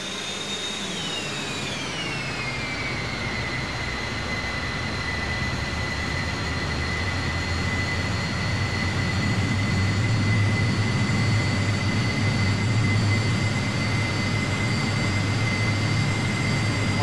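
The jet engine of a McDonnell F2H Banshee in the P3Dv4 flight simulator gives a steady, loud roar with a high whine that glides down and settles early, then holds for a long stretch without talk.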